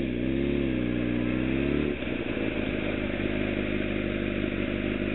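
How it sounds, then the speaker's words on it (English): A motorcycle engine revs up and settles as the throttle is rolled on and eased off, a close, rising and falling mechanical drone that shifts into a steadier rumble partway through. "just give it a little gas and just roll on the throttle as you let off"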